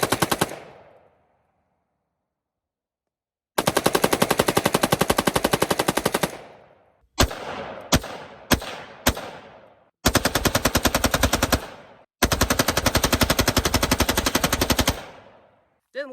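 Sixty rounds of .223 rip through a rifle with a Hoffman Tactical Super Safety in long, very loud rapid-fire bursts, broken by a pause and a few single shots, ending abruptly when the magazine runs dry.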